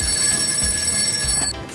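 A telephone bell rings steadily in a French-language mini-series, a bright continuous ring that cuts off near the end, heard alone without talk.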